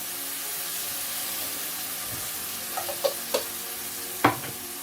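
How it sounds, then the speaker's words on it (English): Ginger dropped into hot oil for a prawn curry, giving a steady soft sizzle with a few sharp crackling pops toward the end, close and alone. "Adding my ginger in the oil."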